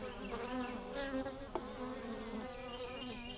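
Honey bees buzz loudly and continuously around a hive fed with sugar water, a dense close swarm drone with steady overlapping wingbeats and no talking.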